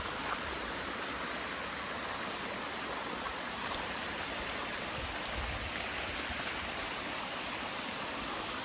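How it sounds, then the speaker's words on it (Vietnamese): Thủy Liêm mountain stream on Núi Cấm rushing through forest, a dense, steady broadband roar of flowing water, constant and fairly near with no voices. "Suối quá đẹp luôn, nước nó mát"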